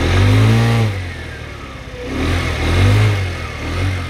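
Kymco Agility 50 scooter engine running after a kick start, a close two-stroke-style buzz rising and falling in short revs with a small, rough idle between them.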